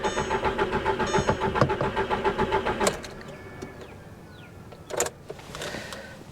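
A car's starter cranks in a rapid rhythmic churn for about three seconds without the engine catching, then cuts off, leaving faint clicks and a brief bump of handling noise, no speech.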